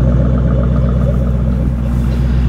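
A 2005 Ford Mustang GT engine idles with a loud, steady, deep rumble that stays close and even throughout, with no one speaking.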